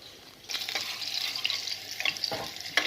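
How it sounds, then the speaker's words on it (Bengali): Food in a pan breaks into sizzling after a quiet moment, then a close, busy crackle of frying continues with a few brief scraping strokes over it. "ভাজা হয়ে গেছে সবটা তুলে নেব"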